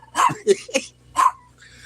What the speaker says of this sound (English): these two been barking since I started this shit